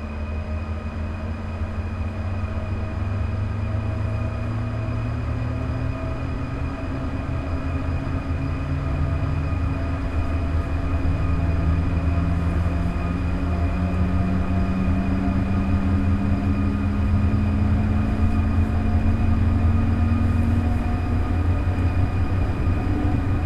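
A regional express train passing in the Train Sim World 4 simulator, heard as a steady low rumble with rising and sliding tonal whines and sustained hums that grow slightly louder across the span, with no talk over it.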